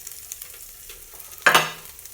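Onions hit a hot oiled pan after the greens, a sudden loud sizzle bursting up over faint background clatter and fading slightly, heard close with no talking.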